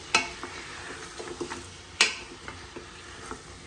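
Mutton trotters sauté in oil in a pot with a low, steady sizzle. A spoon scrapes and clinks against the metal at intervals, with two sharper clanks standing out.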